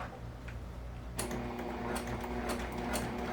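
A sewing machine stitches along a drawn line on a sling bag, starting after a quiet moment with rapid, even mechanical ticking and a low hum, fairly soft and close.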